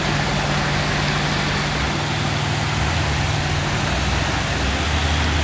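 Heavy rain pours steadily while a loaded Fuso trailer truck's diesel engine drones low and constant, climbing the steep Bukit Kodok hill, the engine rumble running beneath the broadband hiss of the downpour throughout.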